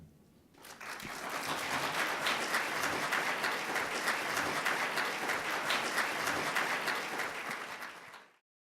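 A convention audience bursts into applause, a broad, even wash of clapping that swells quickly, holds steady for several seconds, then stops abruptly.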